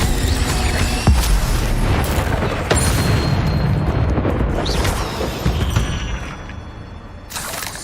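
Fiery Incendio spell bursts in the video game Hogwarts Legacy, loud booming and crackling blasts repeating over a dense, roaring game soundscape.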